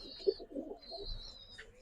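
A black pigeon of a Pakistani breed coos softly in short low notes, faint and close, with a thin high background tone.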